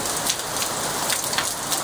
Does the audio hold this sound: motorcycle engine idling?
no